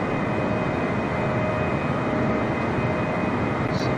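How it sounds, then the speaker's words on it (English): A jet airplane taking off from a nearby airport gives a broad, steady roar with a sustained whine. It is continuous and fairly loud, with no speech. "And you might be able to hear a jet going over right now."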